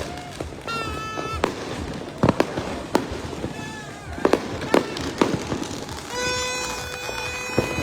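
New Year's Eve fireworks in Laguna pop and crack in sharp bursts, some near and loud, others farther off, with whistling rockets rising and people talking in the background.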